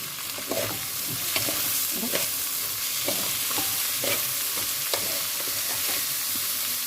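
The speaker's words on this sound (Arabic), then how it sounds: "خلي الرز يتشوح شويه مع الشعريه كده اهو" Rice and vermicelli sauté together in a pan, giving a steady close sizzle broken by regular scraping strokes of a spoon stirring the grains, with no talking.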